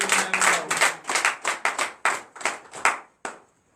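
Congregation clapping hands in acclamation during a morning prayer service in Benin, a dozen loud, slightly irregular claps in quick rhythm, close and alone with no talk.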